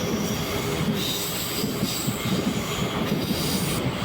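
Rolling steadily through the night between Punalur and Kollam, a MEMU train gives a loud, constant rumble of wheels on rails with faint rhythmic clatter, heard from inside the carriage.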